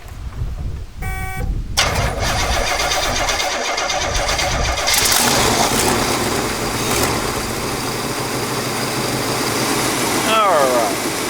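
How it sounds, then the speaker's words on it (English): A 1969 Oldsmobile Ninety Eight convertible engine cranks briefly, fires and settles into a loud, rough idle that runs steadily close by, with a voice speaking over it. "Let's go ahead and fire it up and test some electrical out."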